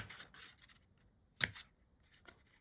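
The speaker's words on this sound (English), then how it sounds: "Let's cut this piece off. Cut a V shape" Scissors snip paper into a V shape for a potion bottle craft, a few quiet cuts with one sharp crisp snip standing out in a near-silent room.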